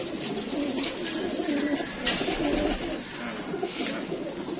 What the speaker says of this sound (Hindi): ये देखें आपके सामने कबूतर है